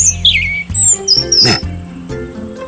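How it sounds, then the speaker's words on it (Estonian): A blue tit gives short, high, thin chirping calls in quick bursts over other low background sounds, fairly close and clear. "Näiteks see sinitihane ütles praegu: hei sõbrad, ma leidsin süüa."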